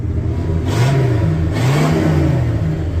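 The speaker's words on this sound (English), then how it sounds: "It's got some pretty lame exhaust, and it's pretty tame" A 1985 Mercury Marquis with a 351 Windsor V8 and a tame exhaust revs up twice in quick succession, its low rumble rising and falling, close and loud with no talking.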